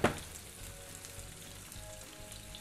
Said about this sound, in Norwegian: Du ser at løk begynner å steke seg litt.